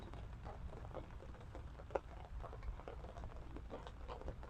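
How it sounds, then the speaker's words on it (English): Rain pattering on a truck camping setup in a forest, a soft steady patter with scattered louder drops, faint and close with no talk. "Raining pretty good out here."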